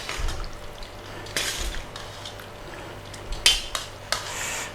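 Linguine being stirred together with shrimp in a pan, heard as intermittent scraping and clinks of a utensil against the pan with soft wet shuffling between, close by and without talk.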